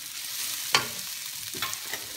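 Garlic dropped into a hot pan of oil with ginger, a sudden loud burst of sizzling and crackle that settles into a steady fry, with a couple of smaller stirring clatters later.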